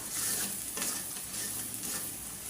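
Taro leaves with shrimp sizzle in a cooking pan as they are stirred, a close, steady frying hiss with scraping strokes of the spatula and no voices.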